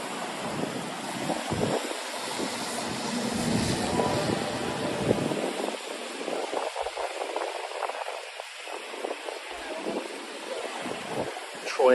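Strong wind buffeting across a New York City street before a storm, continuous roaring gusts that swell and ease, loud and close against the microphone.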